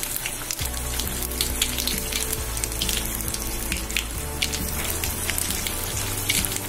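Jowar, spinach and fenugreek vada frying in oil on medium heat, a steady dense crackle and sizzle that stays even throughout, with a low hum running underneath.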